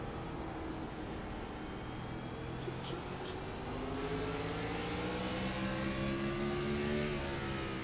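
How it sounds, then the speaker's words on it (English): A race car engine revs and drones steadily throughout at Martinsville Speedway, pitch climbing in rising sweeps, loud and continuous like an onboard recording. "You can hear he is only full throttle for probably maybe a second and a half"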